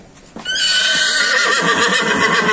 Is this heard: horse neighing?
yes